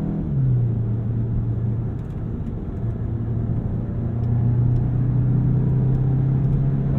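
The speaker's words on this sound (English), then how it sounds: "man, this car gets moving." A 2022 Volkswagen Golf GTI engine drones and pulls steadily as it accelerates, its tone holding a sustained hum with a slight rise near the end; no talking.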